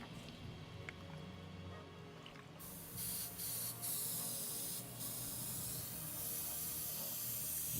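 An airbrush sprays paint at a miniature-painting desk: after a faint room background, a close, steady hiss starts, with a few short pulses as the trigger is worked, then continues evenly.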